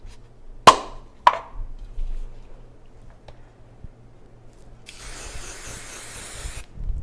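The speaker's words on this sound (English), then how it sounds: "We can hairspray it really quick so that you can see how we do that" Hairspray hisses onto a braided crown hairstyle in one steady burst of about two seconds, preceded by two sharp clicks from handling the can.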